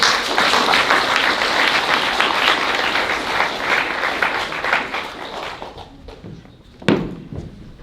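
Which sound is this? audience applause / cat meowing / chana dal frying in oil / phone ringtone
audience applause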